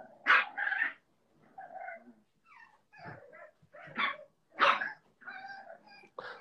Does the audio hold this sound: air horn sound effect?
no